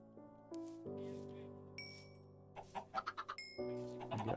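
Synthetic Minecraft chicken clucks sound in short bursts, including a quick run of rapid clucks, over a sustained electronic tone.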